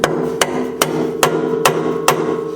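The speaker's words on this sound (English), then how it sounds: "I'll probably need a hammer for that. So I just have a dead blow here" Six sharp dead blow hammer blows land at a steady, even pace during an Acura TL repair, each a solid metallic knock with ringing tone underneath, close and loud.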